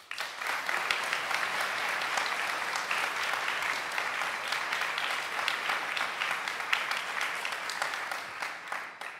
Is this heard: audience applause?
yes